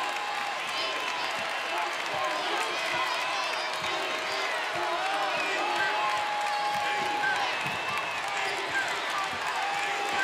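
A standing crowd at an NCAA women's basketball tournament game cheers and applauds in a sustained, dense roar, with faint squeaks and thumps from the court beneath the noise.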